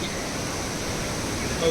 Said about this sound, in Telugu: ఇక్కడ వాటర్ ఫాల్ ఉంది